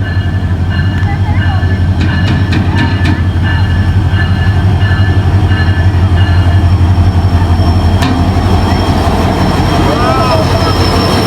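A train idles loudly at a 100-year-old railway station with a steady low engine rumble, faint metallic clicks and crowd voices chattering in the background throughout.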